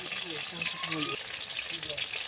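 Fish frying in a pan, a rohu-type carp being cooked for a curry with spinach, giving a steady close sizzle with soft stirring scrapes and a voice speaking intermittently over it.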